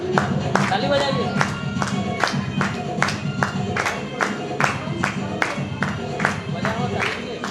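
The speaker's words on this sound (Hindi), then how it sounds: "ताली बजाइए।" At a live Christmas celebration of the Utkal Evangelical Association in Raipur, an audience claps in a loud, steady rhythm of sharp, evenly spaced claps close to the microphone, with crowd voices underneath.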